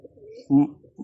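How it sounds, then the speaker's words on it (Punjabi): A single short, low coo comes from a nearby pigeon of a fancied breed with a red head, brief and clear over a quiet background. "ਆਹ ਕਬੂਤਰ ਆ ਵੀਰ ਜੀ, ਵੇਖ ਲਓ"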